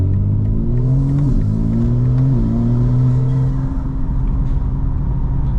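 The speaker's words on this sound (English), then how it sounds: "Making JDM turbo noises," A 900-horsepower 2025 BMW M4 Competition with a loud, steady engine drone that climbs in pitch through gear changes, turbo whine up close inside the cabin.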